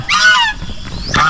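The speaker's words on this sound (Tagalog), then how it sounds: "itong mga gansa dyan lang yan sila sa labas paikot-ikot sila" Several geese honk loudly and close by on a farm, a rapid string of nasal calls followed by another honk after a brief pause.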